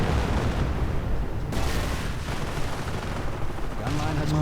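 Assault gun and machine gun fire from bunkers in a World War II strategy video game, a dense continuous rumble of shots and blasts throughout, with a voice faintly under the battle noise.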